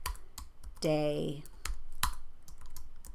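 Close, crisp keystrokes clatter on a computer keyboard as someone types a title in a video-editing program. The typing runs under a brief spoken word.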